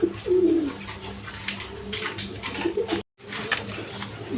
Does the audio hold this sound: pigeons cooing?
yes